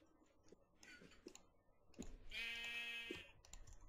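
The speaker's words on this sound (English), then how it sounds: "Freaking sheep." Sheep in a video game gives one clear, fairly loud wavering bleat in the middle, set among light clicking and tapping sounds.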